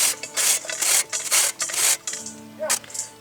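Raw pumpkin pieces are grated by hand in rapid, rasping strokes, each scrape loud and close with short pauses between, falling into an uneven back-and-forth rhythm.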